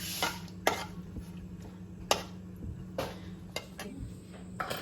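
Chopped country-style cashews and almonds being stirred into ghee in a pan, with a utensil scraping and tapping the metal in irregular clicks and brief clatters over a low steady hum.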